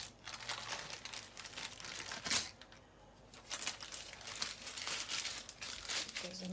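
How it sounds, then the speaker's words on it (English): Baking paper peeled away from a warm paleo nut and seed loaf: close, papery crinkling and crackling rustles in uneven bursts, with one sharper tearing rip partway through. "Peel off the paper."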